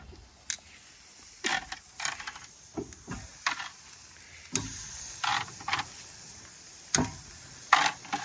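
Chicken pieces sizzling on a grill, a faint steady hiss broken by scattered sharp crackles and pops as pieces are laid down.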